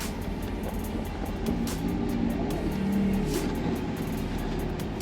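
Steady engine drone from inside a moving sports car with a seven-speed single-clutch gearbox, a low rumbling hum that swells slightly midway, with no talking.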